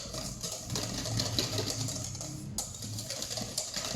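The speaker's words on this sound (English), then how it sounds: "give it a good whisk." A whisk beats oil into homemade mayonnaise in a bowl, producing a fast, steady clicking and scraping rhythm close up that runs continuously.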